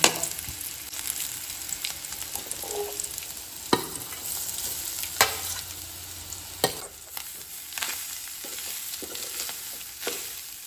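Grated coconut and onions roast in a pan for a Goan wild mushroom tonak, giving a soft continuous sizzle broken by several sharp spatula scrapes and knocks spaced a few seconds apart.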